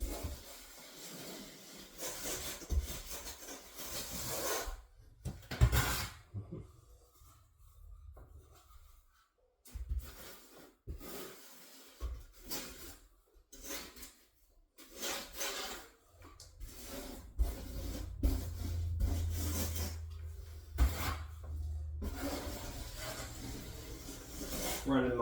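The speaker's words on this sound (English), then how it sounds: "Running my trowel there at the edge of the trowel a little bit on like a snowplow effect" A trowel spreads and scrapes thin mortar across a custom shower floor near the drain, repeated close rasping strokes with pauses, while someone talks in between.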